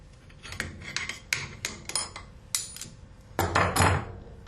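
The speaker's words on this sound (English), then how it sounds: "Remove the clamp." Metal clamp being loosened and removed from an Alfa Laval Unique SeatClean valve: a string of sharp metallic clicks and clanks at steady intervals, close and fairly quiet, ending in a louder scraping clatter.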